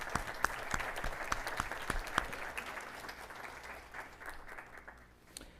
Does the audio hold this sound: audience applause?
yes